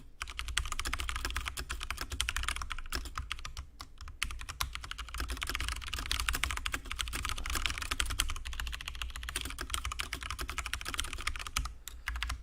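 Rapid, continuous typing on a computer keyboard during a livecoding session, a dense steady clatter of keystrokes close to the mic with only brief pauses, and no talking.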